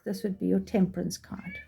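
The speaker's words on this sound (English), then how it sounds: "I do apologize for my cat" A talkative house cat meows several times in quick succession close to the microphone, overlapping a person speaking indoors.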